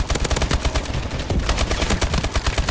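Rapid gunfire from Call of Duty: Advanced Warfare, dense bursts of automatic shots hammering steadily throughout, loud and close with no talk over it.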